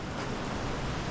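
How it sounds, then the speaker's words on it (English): Hard rain comes down outdoors as a thick, unbroken roar of drops, loud and steady throughout the short stretch with no other sounds. "it is raining and coming down pretty hard"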